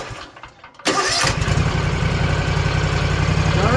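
An engine running on only two cylinders cranks and catches, then settles into a loud, close, steady idle with a rough, pulsing rhythm.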